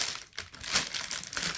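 A plastic polythene bag holding a jewelry set crinkles and rustles up close in irregular bursts, with short pauses between the crackly handling noises.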